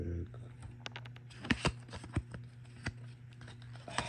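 A stack of Pokemon trading cards being flipped through by hand, giving a few sharp card snaps and soft riffling sounds over a low steady hum, close and fairly quiet.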